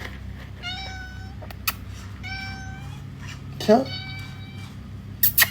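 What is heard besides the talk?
small cat meowing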